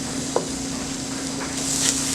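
Onions frying in a pan, a steady soft sizzle with a faint constant hum underneath and an occasional light clink of a utensil, no talking.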